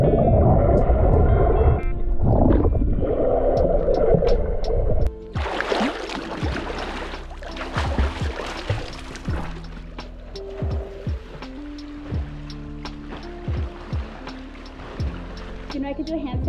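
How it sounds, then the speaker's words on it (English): A woman swimming to the other end of a pool sends splashes and sloshing water after a stretch of talk, with irregular watery strokes and gurgles continuing at moderate loudness. "I'm gonna swim to the other end"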